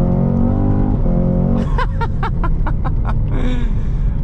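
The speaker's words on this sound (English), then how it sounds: "That supercharged V8 sounds absolutely ridiculous. On upshifts, downshifts, but particularly full throttle, it just sounds mean." Supercharged V8 of a 2024 Cadillac CT5-V Blackwing: a deep, loud engine drone climbs in pitch, then a rapid series of sharp crackles and pops burst out before the rumble settles back.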